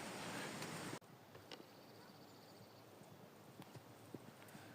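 Horses walking nearby on the Way of Saint James, a few faint hoof clops spaced across a quiet outdoor scene after a brief loud rush at the start.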